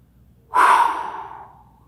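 A single deep inhale into the belly during a pigeon-pose stretch: one close, airy breath that starts suddenly, then fades slowly over about a second, alone against a quiet background.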